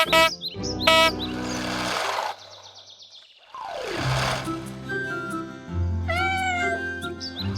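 A cartoon kitten meows several times, high and thin, between other short squeaky and chirping noises, fairly close and clear.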